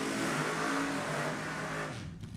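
A loud, rough engine roar from nostalgia front-engine dragsters at an NHRA drag race, holding steady then dropping away near the end, revving nearby.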